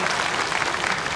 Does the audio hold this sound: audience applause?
yes